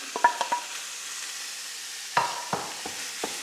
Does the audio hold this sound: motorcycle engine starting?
no